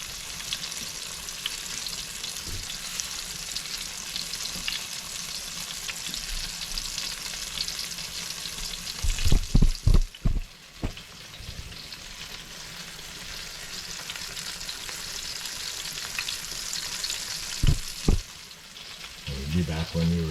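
Butterflied chicken drumsticks fry in a pan with a steady, close sizzle, broken near the middle and again toward the end by a few sharp clatters as pieces are flipped.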